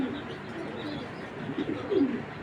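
An Afsan grizzle racing pigeon hen coos softly and low, a few throaty murmurs rising near the end over a dull indoor background.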